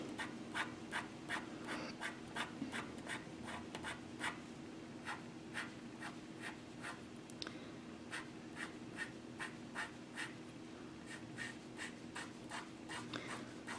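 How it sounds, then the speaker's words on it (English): Colored pencil strokes scratching across paper while drawing a lion's mane, a steady rhythm of short, close, crisp scratches repeating quickly and evenly with no voices. "Just always keep drawing, making the strokes in the direction of the hairs"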